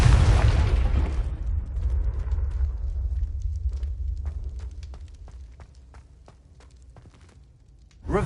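Confringo spell explosion in Hogwarts Legacy, a loud rumbling blast that decays over several seconds into crackling debris and scattered small pops, ending with a fresh low thump.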